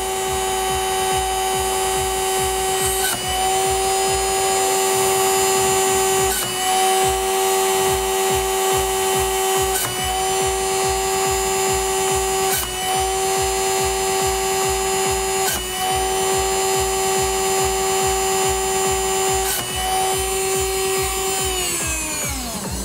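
A small drill bores holes through a printed circuit board, its steady high motor whine loud and close throughout, with a short bite into the board every few seconds and a spin-down at the end.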